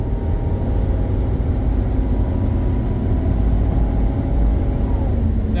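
A 1961 Buick Skylark running on new shocks in place of air shocks gives a steady low engine and road rumble from inside the car, constant and even with no pauses or speech.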